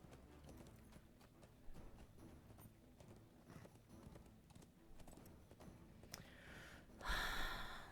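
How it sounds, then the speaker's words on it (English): A lost horse in a video game walks with soft, steady hoof clip-clops at low volume, followed by a brief rustling burst at the end. "There's a lost Bukuri horsey."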